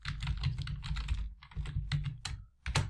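Rapid bursts of keystrokes on a computer keyboard, close and clear, with uneven clusters of clicks and a short pause near the end before a final burst.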